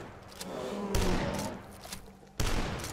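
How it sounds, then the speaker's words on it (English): Two sharp, loud gunshot blasts ring out about a second and a half apart as monsters are shot in the retro first-person shooter Dusk, level 2, over a continuous noisy bed of game ambience. "there is a lot of shooting going on in this game"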